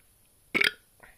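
A single short, close burp after drinking Lasko beer, a quick loud belch followed by a faint trailing exhale.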